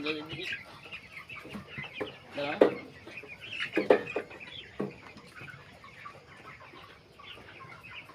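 Fifteen-day-old broiler chickens clucking and squawking nearby while being weighed one by one, with a couple of louder squawks amid scattered clucks and some background voices.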